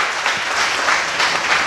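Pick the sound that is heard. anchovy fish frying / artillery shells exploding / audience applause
audience applause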